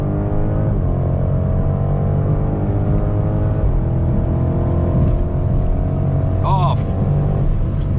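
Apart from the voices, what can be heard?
BMW Alpina B5 4.4 liter V8 biturbo engine at full throttle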